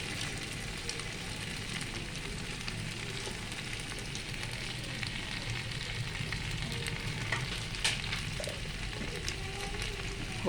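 A vegetarian vegetable curry sizzles in a pan, a steady crackling hiss with soft intermittent stirring scrapes, close and continuous.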